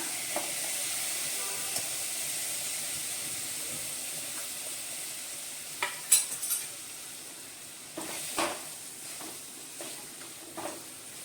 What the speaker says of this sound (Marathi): गुळ पूर्ण मोठ्या गॅसवरच पूर्ण विरघळून घ्यायचं आहे